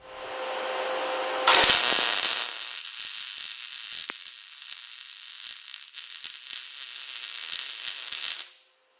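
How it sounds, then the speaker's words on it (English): An arc welder hisses and crackles on a steel welding table, first a short quiet hum, then a loud continuous sizzling burst that lasts several seconds before cutting off. "and then I can do the final welding"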